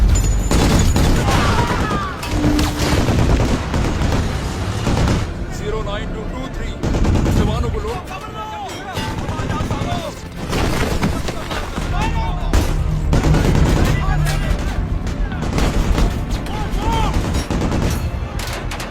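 Battle scene from an action film about a special forces unit under enemy sniper fire, with dense bursts of gunfire and booming shots rolling throughout amid a noisy, loud mix, with voices speaking over parts of it.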